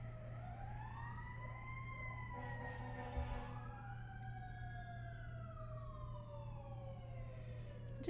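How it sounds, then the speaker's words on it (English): An emergency vehicle siren outside wails in long rising and falling sweeps, faint and distant throughout, with no one speaking. "noticing the siren but not letting it distract you from where you are right this moment"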